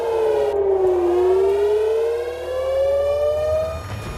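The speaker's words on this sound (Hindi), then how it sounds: "तेल अवीव से हाइफा तक वॉर सायरन का खौफ गूंज रहा है।" A war air raid siren wails over Tel Aviv, a loud single tone that dips and then climbs slowly in pitch, droning on with a faint background rumble.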